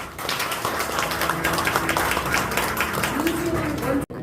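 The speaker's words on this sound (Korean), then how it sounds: "다시 한번 박수 한번 쳐주세요." Audience clapping at a Korean community relief group's presentation and plaque ceremony, steady dense clapping throughout with a voice speaking over it, ending abruptly.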